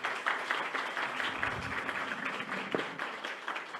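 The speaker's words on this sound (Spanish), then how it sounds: "Un aplauso a todos ustedes." Audience members at an international protocol symposium applaud with a moderate, continuous patter of many hands heard from within the hall, slightly uneven and with no voices over it.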